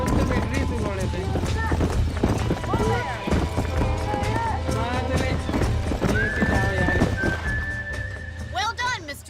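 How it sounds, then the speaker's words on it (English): Horses clip-clop and whinny in the video game Red Dead Redemption, with steady hoofbeats and several neighs over a low ambient bed, while people talk throughout. "These are fine horses."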